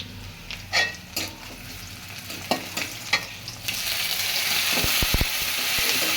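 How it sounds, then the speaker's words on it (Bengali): Rohu fish head stirred with spices, chili paste, onion and chili in a pan, with scraping and clattering stir strokes at first, then a louder, steady sizzle broken by sharp knocks. "মশলা আর মরিচ বাটা দিয়ে নিলাম, দিয়ে নাড়তে হবে।"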